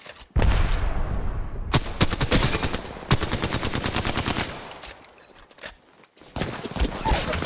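Rapid automatic gunfire in the battle royale game Apex, loud sustained bursts broken by short pauses, with faint game voice lines in the mix.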